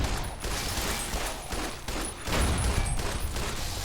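Repeated 10mm gunfire in the Fallout: New Vegas Lonesome Road add-on, a dense, loud run of shots with a heavier burst partway through.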